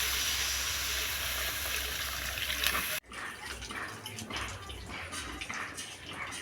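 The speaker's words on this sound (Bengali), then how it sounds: "দিয়ে দিচ্ছি আমি জল পরিমাণ মতন" Water poured into a pan of simmering curry while cooking jackfruit and chana dal dhoka, a steady rushing pour that cuts off sharply, followed by softer bubbling and clinking sounds.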